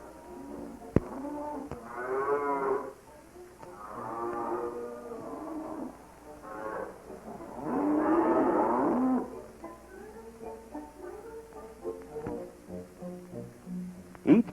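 Dairy cows moo repeatedly as they head to the barn for milking, several drawn-out calls of varying loudness overlapping at mid distance, with a sharp knock near the start and end.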